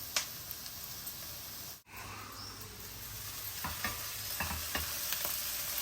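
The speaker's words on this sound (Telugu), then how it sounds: "ఇప్పుడు ఆనియన్స్ బాగా వేగనిద్దాం" Onions frying in a pan for rajma curry, a steady soft sizzle with scattered scrapes and taps of stirring, fairly faint, with a brief dropout partway through.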